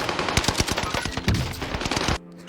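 Rapid assault rifle hip fire in a first-person shooter video game, a dense loud burst of shots lasting about two seconds before cutting off abruptly.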